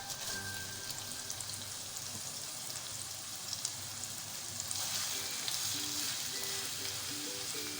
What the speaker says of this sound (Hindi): इसके साथ ही हम इसमें ऐड करेंगे कीमा।